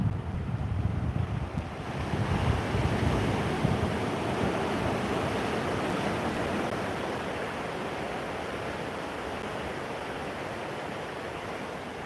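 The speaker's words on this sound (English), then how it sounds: "Beautiful place to visit, very calm, almost soothing listening to these waves break." Ocean surf breaks continuously against the rocky cliffs of Rancho Palos Verdes, California, a loud, steady roar of churning water mixed with wind rumbling on the microphone, with no voices.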